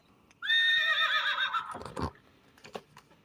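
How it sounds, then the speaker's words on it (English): A horse gives a single loud, close whinny lasting about a second, its quavering cry tailing off, followed by a few faint knocks and rustles. No one speaks. "The horse gallops in the field."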